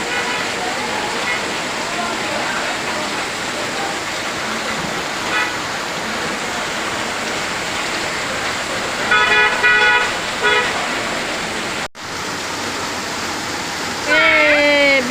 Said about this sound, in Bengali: বৃষ্টি হচ্ছে হ্যাঁ, রাস্তা গাড়ি ঘোড়া নাই প্রচুর বৃষ্টি হচ্ছে আজকে